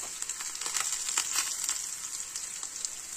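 Spices sizzle steadily in a pan for malai kofta: turmeric, red chilli powder, coriander powder and salt. The sizzle is bright and crackly, with soft stirring pops, close and moderately quiet.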